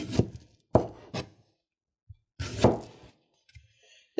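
A sharp kitchen knife slices through a small banana on a cutting board, giving several distinct soft chops and thunks spaced irregularly, close and fairly quiet with no talking.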